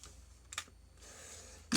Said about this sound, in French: je n'ai plus qu'à couper les côtés.